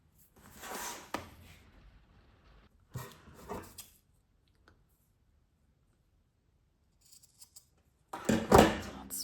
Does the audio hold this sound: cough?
no